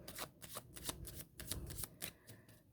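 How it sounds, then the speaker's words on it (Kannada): Tarot cards riffle and slap in a run of quick, papery bursts, close and fairly quiet, with no voices over the handling. "ನಾನು ಪ್ರತಿ ಒಂದೊಂದು ಪಾರ್ಟ್ಗೂ 2 ಕಾರ್ಡ್ ತೊಗೊತೀನಿ."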